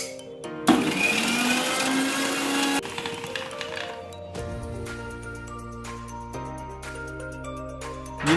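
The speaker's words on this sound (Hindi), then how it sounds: "कवर करके उसको ब्लेंड कर लेंगे" A countertop blender whirs loudly for about two seconds, blending spiced buttermilk with chaat masala, salt and cumin powder, then winds down to a quieter hum with light clinks.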